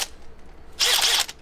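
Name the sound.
Makita power drill drilling a hole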